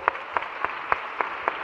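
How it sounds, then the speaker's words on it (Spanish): Six evenly spaced sharp claps ring out in a steady rhythm over a soft background of scattered clapping from a group, after a short music exercise with children. "¡Un aplauso para todos!"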